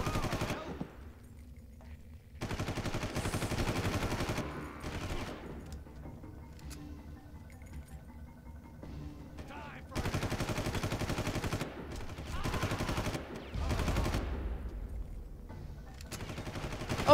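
Bursts of automatic gunfire in the Far Cry shooter, heavy rapid volleys that start and stop in long stretches, with quieter gaps of scattered shots and game ambience between them.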